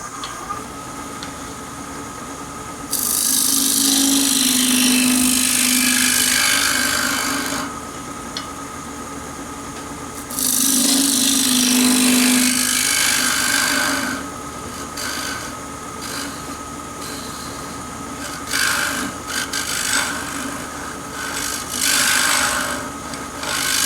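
A scraper shaves wood on a turned triangular box at the lathe, with two long loud rasping passes, then lighter intermittent scraping and a steady machine hum throughout.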